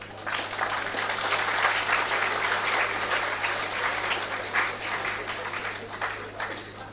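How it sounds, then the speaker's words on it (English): Sustained applause from a student audience closing a motivational talk, dense steady clapping holding at an even level for about seven seconds before tapering slightly, with no speech over it. "let's thank sir with a big round of applause."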